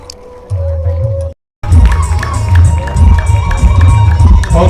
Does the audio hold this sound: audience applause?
yes